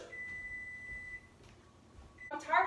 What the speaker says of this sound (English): I'm tired of this shit beeping.